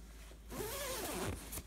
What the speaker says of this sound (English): I can zip them back up.